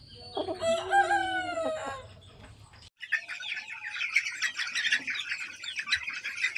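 A Black Australorp rooster, a heavy chicken breed, crows loudly and close by in a long drawn-out call, then gives way to a busy chorus of chirping birds and squawks.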